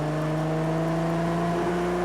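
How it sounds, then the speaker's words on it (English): Loud Ferrari engine held at a steady drone while driving on a race track, a constant close, buzzing hum with stable harmonics and no pauses. "I'm having to talk quite loud because this engine is very loud"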